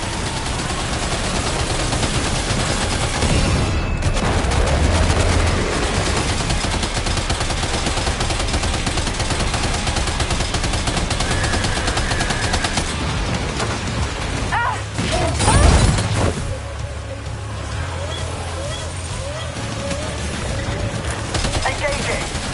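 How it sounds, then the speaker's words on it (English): Gunfire in Death Stranding 2 crackles steadily through a dense, busy game mix, with one heavier blast standing out near the middle and a voice talking over parts of it. "Opening fire now."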